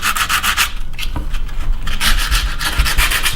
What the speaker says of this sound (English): just take a piece of sandpaper, just give it a quick rub, make sure there's no sharp edges